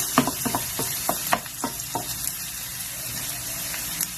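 Ginger sautéing for monggo with alugbati, a steady hissing sizzle broken by a string of sharp crackling pops close by, no voices.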